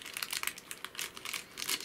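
A small plastic bag from an Arduino starter kit, the one holding a 9-gram servo, is handled close by, giving faint, irregular crinkling bursts with no speech.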